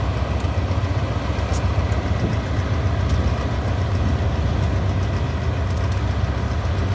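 An express train rumbles steadily through Nakhon Chum station, a loud continuous low roar with faint metallic clicks and squeaks of wheels on rails over seven seconds, no voices.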